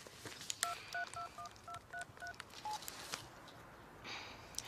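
A telephone number is dialed on a phone keypad: a quick run of about eight distinct touch-tone beeps, each short and clear, followed by a faint rustle, quiet with no talk.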